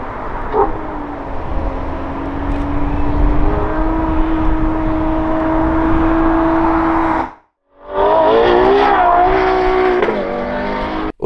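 A Ferrari 812 Competizione's naturally aspirated V12 roars as it revs, holding a sustained rising howl, cutting out briefly, then climbing again, loud and close.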